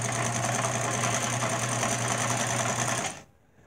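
A Singer 306K sewing machine runs a straight stitch at a steady, fast pace, its motor whirring and needle clattering rhythmically up close for about three seconds before it stops abruptly.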